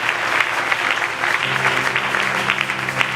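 A church congregation at a Friday prayer night claps for the Lord, a steady burst of loud applause from a crowd over a few seconds, with an organ or keyboard chord entering partway through.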